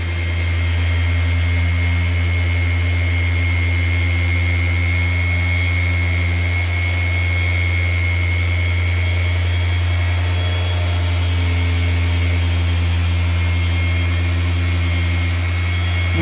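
Flex PXE mini polisher running at high speed, a steady loud motor whine with a constant low hum throughout, no talk over it.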